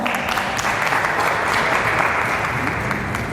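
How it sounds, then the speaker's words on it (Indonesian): An indoor audience at a literary festival book discussion in Jakarta claps continuously, a dense, steady wash of many hands throughout. "Tepuk tangan dulu untuk kita semua."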